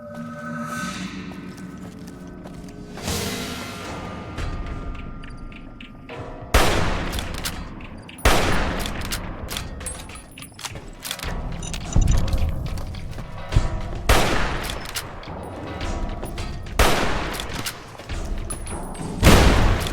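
Rockets fired at enemies in the game Fallout New Vegas, with a series of heavy booms and blasts at irregular intervals amid crackling gunfire and thuds, loud and close, with a rising whoosh at the start.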